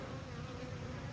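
Swarm of mixed-breed honeybees, mostly Italian, buzzing in a yard, a faint but constant droning hum with no speech.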